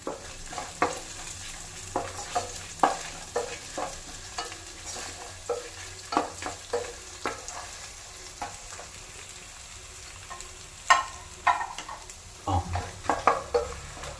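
Whole washed red chillies sizzle and crackle in a pan of hot oil, with repeated stirring scrapes and pops in an irregular rhythm, close and fairly quiet, no talking.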